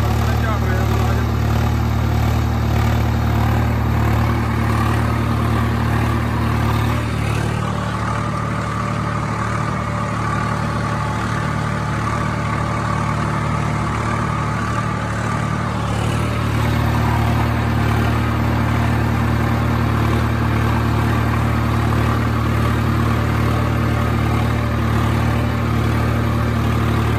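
A tractor with a harrow idles at a farm field being prepared for potatoes, producing a steady, loud, low engine rumble throughout, with a voice talking over it.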